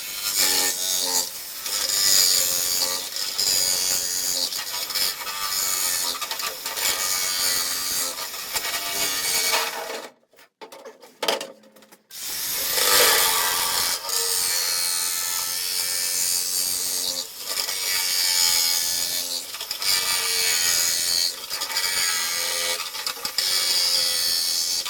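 Acrylic plexiglass sheet being cut with a saw, a loud continuous rasping drone that runs on steadily, breaks off for about two seconds, then resumes.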